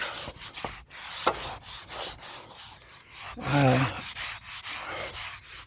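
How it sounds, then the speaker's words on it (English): Hand sanding with 400-grit sandpaper to prep a surface for paint, a close rhythmic scratchy rubbing in repeated back-and-forth strokes, with one brief squeak partway through. "I'm using a 400 grit right now."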